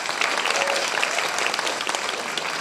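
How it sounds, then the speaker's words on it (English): Steady applause from a room full of people, dense clapping that holds at an even level for a few seconds. "A round of applause to the panelists."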